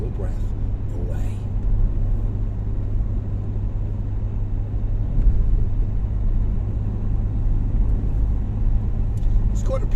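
A car travels the road from Stroumpi village to Paphos in Cyprus, giving a steady, loud interior rumble of engine and tires throughout, with no talk audible.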